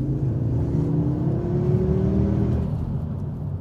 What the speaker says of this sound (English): they've really tuned up the engine noise, not the exhaust, the engine more than anything